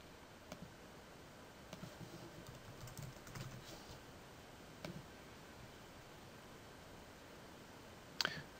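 Password being typed on a computer keyboard at a lab workstation, quiet scattered key clicks at low level with a couple of sharper taps, no talking.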